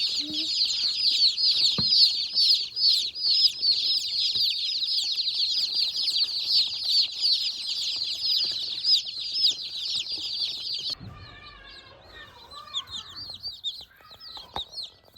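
Freedom Ranger broiler chicks peep constantly in a dense, high chorus under a heat plate, close and steady, and the busy chatter thins out toward the end.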